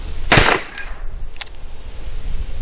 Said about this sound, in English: HST 45 ACP ammunition, put it through the Ruger Alaskan 2-inch barrel and see what it does across the chronograph